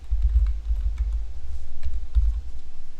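Quick typing on a computer keyboard during Minecraft server setup, with bursts of close, soft key clicks and irregular pauses over a low background hum.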